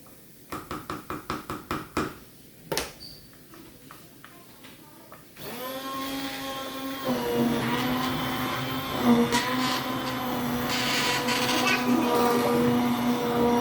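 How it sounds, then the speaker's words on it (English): An immersion blender whirs steadily through homemade enchilada sauce after several knocks and clatters of the pot, a loud continuous motor drone with shifting pitch that runs for many seconds, close up. "I'm going to use my immersion blender and make it really smooth."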